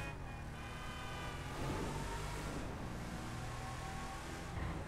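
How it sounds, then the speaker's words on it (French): A three-wheeled motorbike engine from Grand Theft Auto V holds a steady, buzzing drone, loud and continuous, with a slight swell in the middle and no talk over it. "Je vais vous faire écouter quand même le bruit du moteur."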